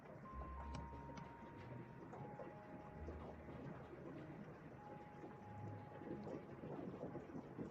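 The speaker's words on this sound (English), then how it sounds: "And you might be hearing some rain in the background here because I'm doing an aeration, and it is like starting to storm here" Steady rain falling in the background as a storm begins, a faint continuous wash with low rumbles, heard alone at low level.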